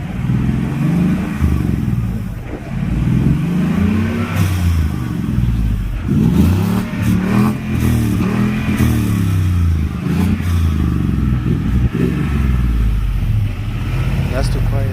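Ford car with a temporary MagnaFlow 24-inch exhaust and resonator revs a few times, its low engine note rising and falling in repeated swells under talk.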